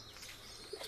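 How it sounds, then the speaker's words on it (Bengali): Saharanpuri Napta pigeons in separate paired cages of a breeding loft give faint coos and chirps, with a brief wing flutter near the end, against steady background noise. "এই যে এখানে আছে একটা সাহারানপুরি নাপ্তা"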